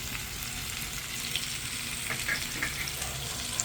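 A pot of adobo with potatoes and bay leaf simmers at a boil, giving a steady soft bubbling and sizzling hiss that stays even and fairly quiet.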